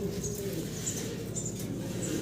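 Pigeons for sale, including a white Mundian cross, coo in soft repeated low calls close by, with a few faint chirps and background murmur.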